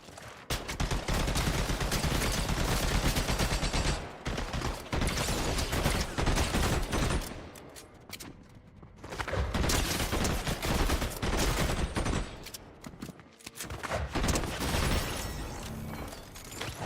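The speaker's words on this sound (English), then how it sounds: "somebody's shooting at me" Loud, sustained gunfire in a shooting video game aimed at the player, dense automatic bursts that rattle for several seconds at a time, broken by brief pauses before resuming.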